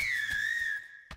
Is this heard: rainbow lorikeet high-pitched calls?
no